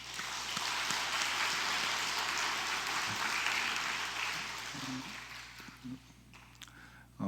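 A church congregation applauds a saxophone club's performance during a Sunday service, with a sustained, fairly soft patter of clapping that thins out toward the end.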